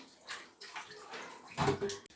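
Raw chicken pieces being washed by hand in a bowl of water, with soft splashing and sloshing in several short bursts, near and moderately quiet, without talk.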